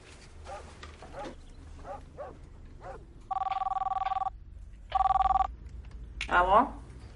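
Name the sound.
telephone ringing as a call is placed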